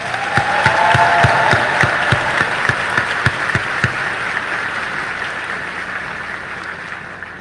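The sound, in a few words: applause at a graduation ceremony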